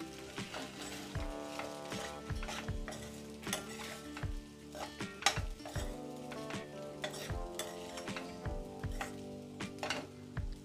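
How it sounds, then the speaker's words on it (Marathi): A spoon stirs sabudana khichdi in a hot pan, scraping and knocking in steady repeated strokes over a soft sizzle, close and clear with no talk. "ह्याला आपण चांगलं असं ढवळून घेऊया"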